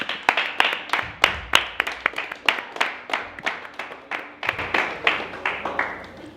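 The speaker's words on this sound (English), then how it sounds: "Let's give a round of applause for Ra Vision" Clapping at a reunion show comes from a small audience, as distinct sharp claps in a loose, uneven rhythm that stay close and fairly loud, with a brief gap midway before they pick up again.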